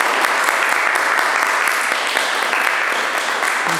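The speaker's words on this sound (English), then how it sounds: "let us give them a round of applause" Steady, dense round of audience applause at a festival session, loud and close, sustained evenly throughout with no break.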